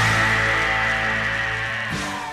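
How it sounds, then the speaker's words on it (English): A280-C laser rifle overheating in Star Wars Battlefront, a loud, sustained electronic whine with a steady buzzing hum that slides downward and cuts off into a brief drop near the end. "who wouldn't want a gun that's overheat sounds like this?"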